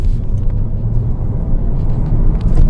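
A DS 3 Performance hatchback's engine drones steadily while cornering on a damp road, a dense low rumble that holds at a fairly even level and swells slightly near the end, with no voices over it.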